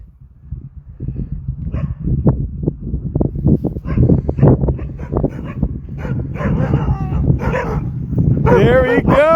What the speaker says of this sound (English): They were all barking, popping off at me.